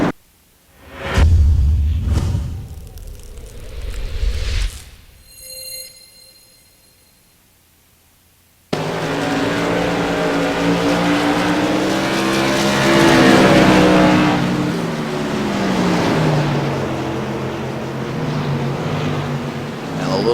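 Modified race cars at Thompson Speedway roar loudly, with a burst of engine noise early, a brief drop to near silence, then a sustained close, revving pack of engines that swells and fades for the rest of the stretch.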